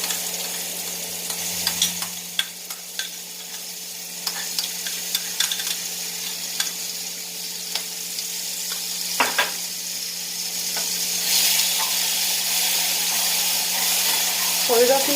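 Mustard seeds fry in a little oil for a fish curry, a steady crackling sizzle with occasional stirring scrapes that grows louder and denser toward the end, with no voices.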